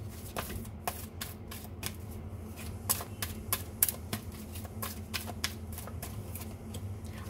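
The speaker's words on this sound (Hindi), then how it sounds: "एक कार्ड और निकालते हैं" Playing cards are shuffled and drawn during a tarot-style reading, giving a steady patter of soft, crisp riffles and flicks close to the listener, with no talking over them.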